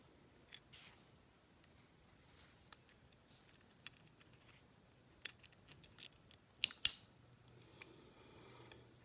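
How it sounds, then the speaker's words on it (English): Small metallic clicks and snaps as springs are fitted onto the keys of a Richmond overdrive 6-speed transmission mainshaft, sparse and close, with two sharper clacks near the end and no talk. "Once I get the keys into place, then I can put the springs in."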